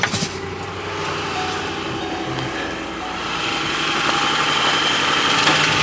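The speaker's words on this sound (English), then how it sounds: "Obviously, this will be an extremely cold start, and you guys will see, we're probably on a cold start." A car engine idles after an extremely cold start in snow, giving a steady, close, loud mechanical hum with a faint rattling vibration that grows slightly louder toward the end. No voices are heard.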